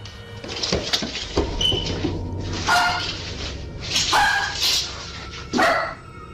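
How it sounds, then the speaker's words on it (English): A dog barks repeatedly at a fairly even loudness, sharp yips spaced irregularly over a background of low rumble, with no talk. "the dog's barking didn't change in pitch and loudness the entire time"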